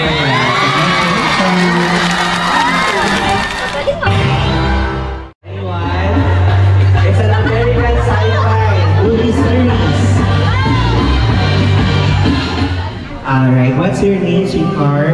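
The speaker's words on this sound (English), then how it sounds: "how about a well-deserved round of applause?" Party guests, many of them children, shout, whoop and cheer loudly after a movie quiz answer, with a brief lull midway before the noisy crowd babble resumes, mixed with voices talking.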